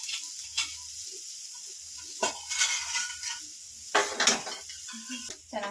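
Whole spices frying in castor oil in a pan for sprouted-bean sambar, stirred with a metal spoon that scrapes and clinks against the pan at intervals over a faint sizzle, while someone talks between the stirs.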